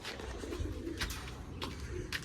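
Pigeons being let out of their coop coo softly and repeatedly, a few low rolling calls over steady outdoor background noise, moderately distant.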